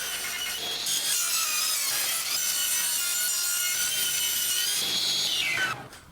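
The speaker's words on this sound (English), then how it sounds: "First, we'll rip the stock into roughly 1/2 inch and then again into 1/4 inch widths." A power saw rips wood stock into narrow strips, giving a loud, continuous high-pitched cutting whine with rasping texture for about six seconds before it tapers off, with no talking.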